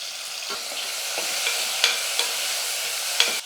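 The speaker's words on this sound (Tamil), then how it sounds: "இப்போ வந்து நான் தக்காளி சேர்த்துக்கிறேன்" Chopped tomato tossed into softened onions in a hot pan, with a steady sizzle and a few sharp stirring scrapes and clinks, close and moderately loud, no voices.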